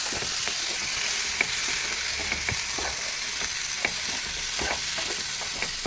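Fresh pineapple stirred in a hot cooking pan, steady sizzling with repeated soft scrapes and taps of the spoon against the pan, close and even throughout with no voices.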